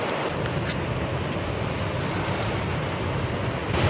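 Sea waves washing onto a beach on a cloudy spring day, a constant rushing surf with wind buffeting the microphone and a surge building near the end.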